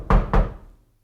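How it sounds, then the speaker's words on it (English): Two firm knocks land on an apartment door, close and solid with a short gap between them, then fade into quiet. "My hand rises to knock again."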